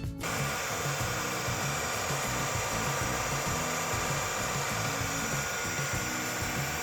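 A Redkey W12 wet and dry vacuum cleaner runs its self-cleaning cycle on its dock, a steady, loud motor whir with churning low rumble that holds constant throughout, no voices.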